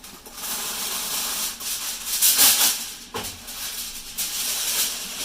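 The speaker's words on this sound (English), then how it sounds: "I'm just going to take some foil." Aluminum foil being torn and sealed tightly over smoked pork shoulder and beef roast: crinkling, rustling foil with a sharper tearing burst near the middle, close and moderately loud.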